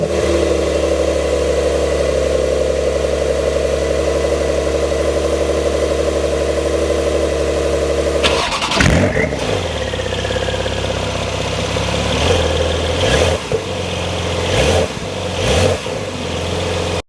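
A 2024 Porsche 911 Carrera with a twin-turbo flat-six, first droning at a steady idle, then blipped through several sharp revs that flare and fall back, loud and close with no talk.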